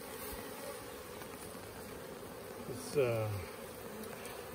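Bee swarm buzzing in a wood pile, a dense continuous hum of many bees close by, with one louder buzzing pass sweeping near and dipping in pitch midway, and a brief word spoken.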